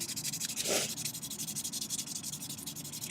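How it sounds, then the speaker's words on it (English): Fine 600-grit sandpaper is rubbed back and forth against a piece of cardboard in quick, rhythmic strokes, a close, soft, scratchy rasp that repeats evenly throughout. "when you sand, you're going to sand on a piece of cardboard or something like that"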